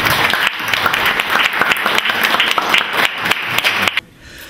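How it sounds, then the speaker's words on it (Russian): Applause rings through a city council meeting after a chair is elected. Many hands clap loudly and steadily for about four seconds, then stop abruptly, leaving quiet room tone. "Прошу ваши аплодисменты."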